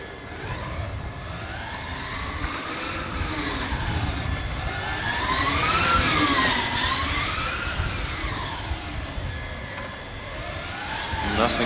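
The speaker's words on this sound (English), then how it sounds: "This drivetrain making a tremendous amount of noise compared to some of the other cars that we've heard running here today." A Formula Student driverless race car runs an autocross course, its loud drivetrain whine rising and falling in pitch with each acceleration and slowdown as it passes nearby, over a broad rush of track noise.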